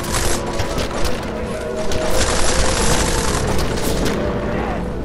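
Loud, sustained automatic gunfire in Deus Ex: Mankind Divided comes in dense overlapping bursts with booming impacts during a combat firefight.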